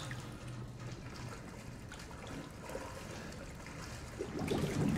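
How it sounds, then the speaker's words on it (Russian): Water drips and trickles in the video game Resident Evil 7, a steady wet patter inside a dim, humming ambience that grows slightly louder and splashier toward the end. "Откуда это капает?"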